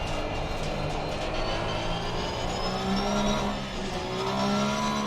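Porsche 911 GT3R race car engine in Assetto Corsa Competizione at Spa, a steady loud drone holding high revs with slowly shifting pitch, heard from the cockpit with no talk.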